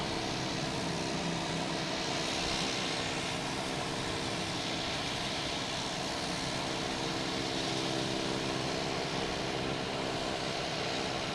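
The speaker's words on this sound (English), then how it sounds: "This plane is very loud." A plane flying near Logan Airport roars loudly and continuously, a dense steady engine drone that fills the whole stretch without fading.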